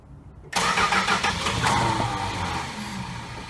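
A 1968 Chrysler 300 engine catches abruptly after a quiet moment and settles into a loud, rough idle that slowly eases off, heard close with no voices.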